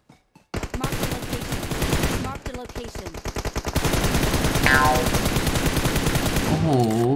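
Gunfire in PUBG Mobile rattles out in rapid, sustained automatic bursts with brief gaps, loud and close, while someone talks excitedly over parts of it.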